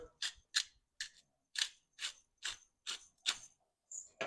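Pepper grinder cranked over curried chicken, a series of about nine short, crisp grinding bursts at a steady rhythm, close up and fairly quiet.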